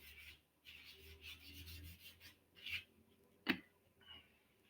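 Light hand sanding of a banjitar with 400-grit sandpaper, heard as faint, close, irregular rubbing strokes with brief pauses and one sharper scrape near the end.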